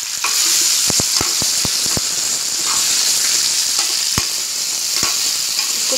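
Gujarati muthiya frying with salt and crushed red chilli in a hot pan, a steady loud sizzle broken by a quick run of sharp spoon or spatula taps early on and a few isolated knocks later.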